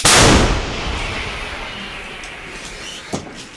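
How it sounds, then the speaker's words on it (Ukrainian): A single powerful blast from an old American howitzer booms at the start, then a long rumbling echo slowly fades across the distance, with a faint knock later. "Гармата! Постріл!"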